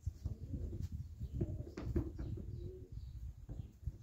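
Soft, low cooing from female pigeons close by, repeated throughout with faint rustling and a few brief clicks.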